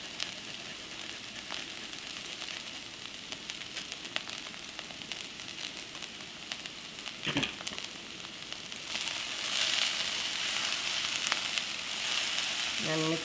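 Green chilies, chili flakes and shredded ginger sizzle in hot oil while spicy potatoes stir-fry, a steady close crackling hiss that swells louder toward the end, with a few clinks of a utensil.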